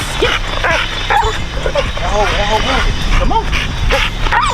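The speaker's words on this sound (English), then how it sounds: "Just keeps barking at it." A working dog barks and yips again and again in rapid, excited bursts at a spring pole, mixed with a few whimpers. Someone speaks close by over the barking.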